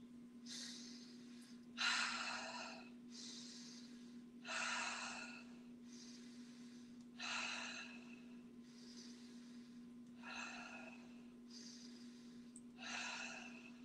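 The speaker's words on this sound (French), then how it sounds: "Accélère. Inspire. Expire. Inspire. Expire." Guided breathing exercise, with about ten spaced, fairly faint breaths alternating inhale and exhale in a steady rhythm over a constant low hum.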